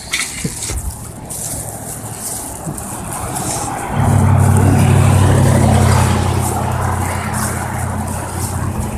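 A car driving along a foggy highway: a steady road and engine rumble that grows louder and heavier about halfway through as a vehicle draws closer, then holds at a strong, continuous level with no talking.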